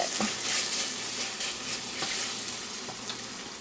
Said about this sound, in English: We're going to stir this around in here, and we're going to let this Philly melt for just a little bit.